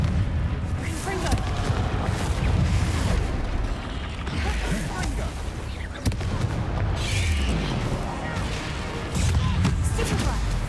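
Confringo fire spells burst repeatedly in a Hogwarts Legacy battle, deep booms and crashing impacts rolling one after another through a dense, loud fight while a voice shouts over the chaos.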